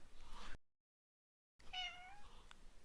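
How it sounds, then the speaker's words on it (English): A house cat meows once, faint and close, a short tonal call after a stretch of quiet room tone with no talking. "Oh, my cat says hello as well."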